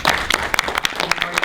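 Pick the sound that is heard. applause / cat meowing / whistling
applause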